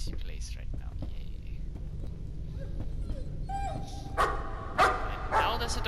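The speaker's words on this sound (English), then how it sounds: "And now there's a dog." A dog in the horror game Layers of Fear gives short yips and barks that cluster toward the end over a low droning ambience, mixed with eerie whispering.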